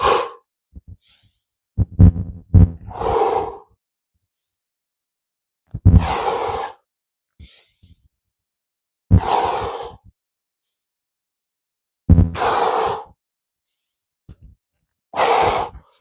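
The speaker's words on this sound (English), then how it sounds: "And breathe in, exhale, inhale," Deep breathing exercise with slow, audible inhales and exhales in a quiet room, several long breaths separated by silent pauses, close and clear.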